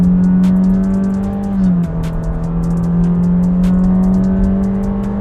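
A Honda City GN5 hatchback accelerates hard, its engine note a strong, steady drone that dips briefly as it shifts gear and then climbs again, loud and close throughout.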